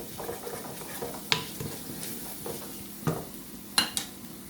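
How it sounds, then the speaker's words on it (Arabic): Onion frying gently in meat sauce in a pan gives a soft, steady sizzle, with occasional sharp clinks and scrapes of a utensil stirring against the pan. "ونخليها تشحر على خاطرها حتى تطيح ديك البصله وتولي عندي"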